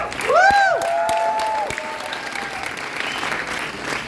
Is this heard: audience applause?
yes